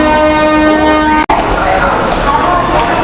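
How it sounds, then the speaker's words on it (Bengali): Tamralipta Express train at Howrah station, with a loud sustained horn-like tone broken by a brief cut, then ongoing platform and rail noise with voices in the busy station. "এই হচ্ছে আমাদের ট্রেনের নাম, তাম্রলিপ্ত এক্সপ্রেস।"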